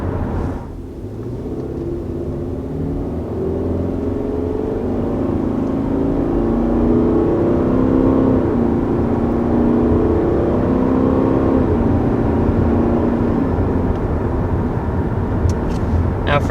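A 2021 Subaru Forester with a CVT and simulated shift points accelerates steadily, its engine drone rising and stepping in pitch as speed builds, heard from inside the cabin over a constant road rumble.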